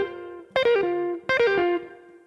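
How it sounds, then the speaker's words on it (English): Two quick bursts of pull-offs on an electric blues guitar with a driven, effected tone. Each picked note snaps down through a fast cascade of lower notes, ringing clearly and alone. "Another example of left-hand blues rhythmic elements that can elevate your playing is quick pull-offs."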